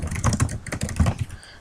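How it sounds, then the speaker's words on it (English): Rapid clattering keystrokes on a computer keyboard, close and distinct, in a quick irregular burst that tapers off near the end. "and I'll start typing."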